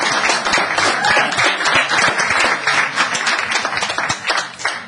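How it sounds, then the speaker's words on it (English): Audience at a Los Gatos town council meeting clapping, a dense, loud, sustained round of applause from many hands filling the room for about five seconds. "I'm going to have to ask you not to clap."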